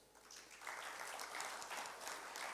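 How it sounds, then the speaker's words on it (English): An audience at the World AI Show applauds, a soft, even patter of many hands that swells after a quiet start and holds steady, sounding distant and fairly faint across the hall. "Let's give a big hand of applause."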